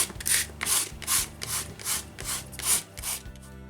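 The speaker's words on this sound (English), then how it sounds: "I will sand the ends to a sharp point" A thin strip of wood veneer has its ends sanded to a sharp point, with about eight rhythmic, close rasping back-and-forth strokes at a steady pace.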